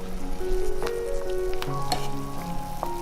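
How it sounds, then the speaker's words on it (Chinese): Shiitake mushrooms blanching in a pot of salted boiling water. A steady rolling bubble and hiss sounds close, with light music playing over it. "接着煮一锅开水，把冬菇放进来焯烫2到3分钟"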